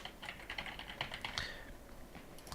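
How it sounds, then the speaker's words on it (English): Fingers type an email address on a computer keyboard, a steady run of quick, light key clicks up close with slight unevenness, then a brief pause and a few final taps. "type in an email address"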